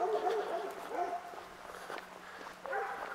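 A German Shepherd dog whimpers and gives soft yips nearby in short bursts, with faint footsteps and road noise around it.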